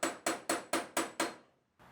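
Hammer tapping the body pillar of a Mustang GT parts car to break spot welds loose: six sharp metallic strikes in a steady rhythm, close and ringing, each decaying quickly.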